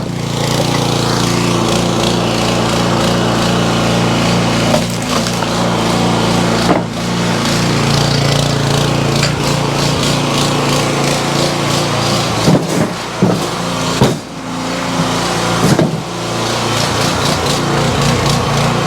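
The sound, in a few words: firewood splitting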